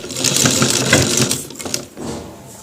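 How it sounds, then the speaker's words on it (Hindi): A sewing machine stitches in quick rattling bursts while sewing a bone pocket into a coat, close and busy, briefly slowing before running on again. "आराम से आपको सिलाई लगाना है।"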